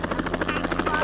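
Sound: helicopter in a video game

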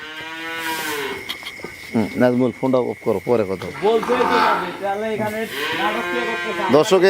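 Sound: cattle mooing at night during delivery

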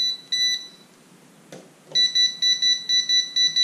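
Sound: non-contact voltage tester beeping

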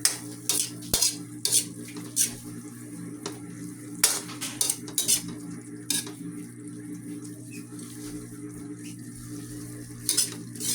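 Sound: sautéing alugbati (Malabar spinach) in a pan

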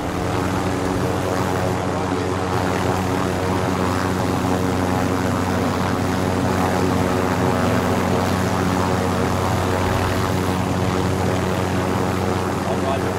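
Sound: helicopter flying in Modern Warfare video game

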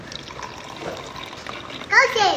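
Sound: water being poured into a cup

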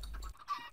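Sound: Minecraft chickens clucking in a video game

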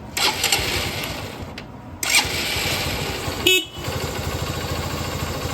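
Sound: motorcycle engine running

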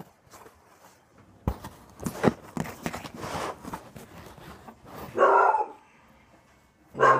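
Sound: dogs barking

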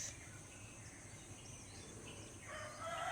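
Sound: rooster crowing

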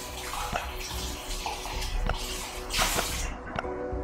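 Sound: water sound in the video game Last Day on Earth: Survival

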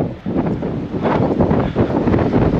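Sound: wind blowing into the microphone on a windy day

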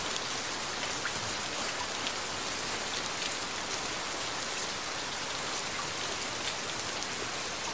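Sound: rain falling

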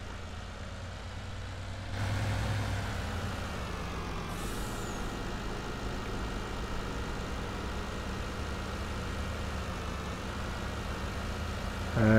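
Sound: fast farm vehicle engine driving in Farming Simulator 19 video game

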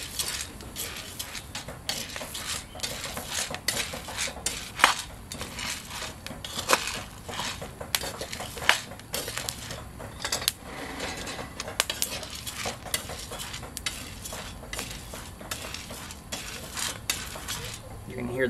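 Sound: green coffee beans cracking while roasting

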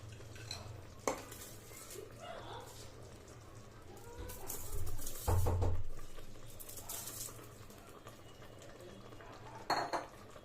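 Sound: washed rice added to fried masala in pot and stirred

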